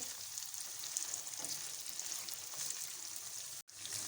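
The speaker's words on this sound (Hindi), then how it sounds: "चिकन हमारी फ्राई हो गई है।" Chicken frying in a pan gives a steady, soft crackling sizzle with tiny spattering pops, continuous and fairly quiet, cut off by a brief dropout near the end.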